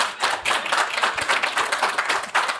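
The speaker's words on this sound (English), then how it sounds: "a quick round of applause for our amazing panel members" Audience clapping for panel members at the close of a convention panel, close and lively applause from a modest crowd with distinct individual hand claps, short and continuous.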